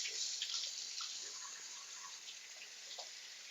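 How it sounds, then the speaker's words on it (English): Hot water for scouring wool streams into a bucket with a steady, soft, hissing splash, fairly faint and continuous throughout. "My bucket is now ready to be dipped, so I'm going to get the scouring water ready."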